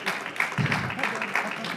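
Audience at a real estate awards ceremony applauding, a steady wash of clapping through the short stretch with a host's voice talking over it.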